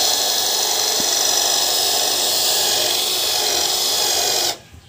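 A power drill bores a hole through a car dashboard panel while a head unit is being installed. The whine is loud, steady and close, holds for several seconds, then cuts off abruptly.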